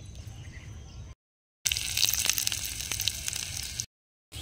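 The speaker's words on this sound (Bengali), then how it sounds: "তেলে ভেজে নিচ্ছি।" Egg devil mixture of egg, cornflour, cumin, chilli, garlic and ginger sizzles in hot oil. It crackles in two close bursts of frying separated by short silences, with a louder, brighter stretch in the middle.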